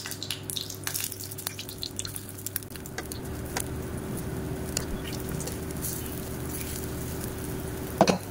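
Millet paniyaram batter sizzles as it is poured into the wells of a hot, oiled paniyaram pan, giving a soft, continuous crackle and patter under a faint background hum.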